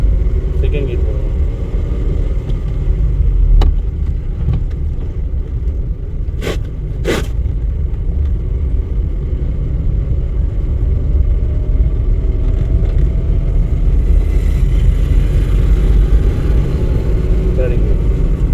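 Car driving in second gear during a driving lesson, a steady low engine rumble inside the cabin, with a few clicks and people speaking over it.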